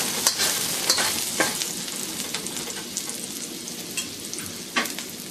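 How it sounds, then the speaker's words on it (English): Chopped ginger and garlic stir-fry in a wok in a Chinese restaurant kitchen, a continuous sizzle broken by periodic metallic scrapes and clanks of the spatula tossing the aromatics, close and fairly loud with no talking. "Just give it a quick stir fry for about 15 or 20 seconds."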